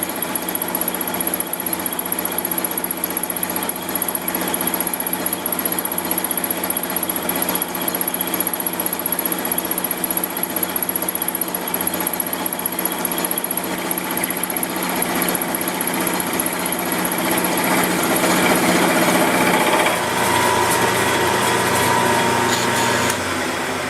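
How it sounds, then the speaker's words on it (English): A dovetail cutter mills metal on a machine, giving a loud continuous whine and rattle that runs unbroken and swells slightly toward the end. "So I'm going to take a couple more shots of the dovetail cutter working on one of the next passes."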